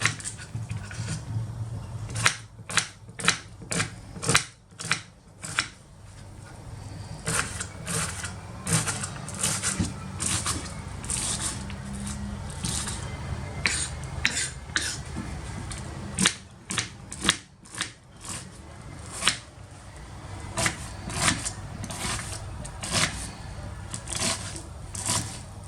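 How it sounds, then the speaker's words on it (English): A knife chops one onion into small pieces on a board, producing rapid, close, sharp taps in irregular bursts that continue steadily with only brief pauses and no talking. "Now I chop one onion into small pieces."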